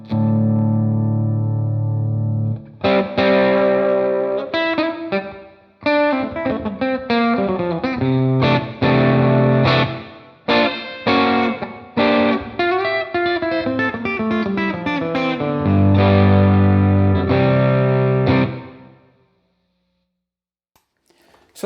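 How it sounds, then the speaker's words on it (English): A distorted Fender Telecaster electric guitar through a Marshall Plexi-style tone plays a riff of sustained chords and choppy stabs, loud and close, with a long ringing chord near the end that fades out into silence. "Check this tone out. This was like a Marshall Plexi."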